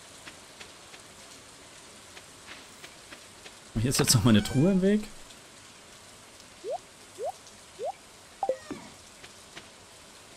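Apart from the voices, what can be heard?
rain in the video game Stardew Valley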